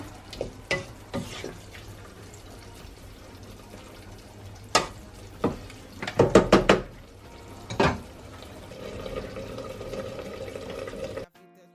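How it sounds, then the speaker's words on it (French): Precooked red kidney beans rinsed under a kitchen tap for chili con carne: a few sharp clanks and knocks, then a steady close stream of running water over the last few seconds. "Donc je vais les rincer un peu."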